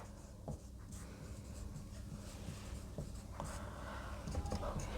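A pen scratches notes onto paper up close, with soft, irregular strokes and small taps that continue quietly throughout.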